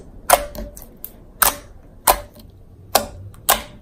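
Clear slime being mixed by hand, with five sharp, close clicking pops at roughly even intervals and quiet squelching between them.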